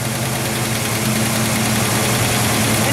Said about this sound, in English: we have our power steering pump whirring away